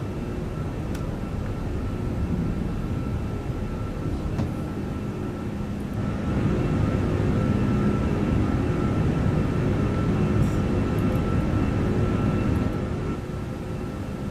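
Steady, loud jet engine roar from inside a Lufthansa Airbus A340-600 during its takeoff roll and climb, swelling slightly partway through, with no talk over it.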